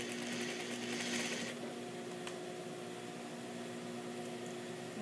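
A sewing machine stitching a jacket sleeve runs in a short, quiet whirring burst before fading into a low steady hum.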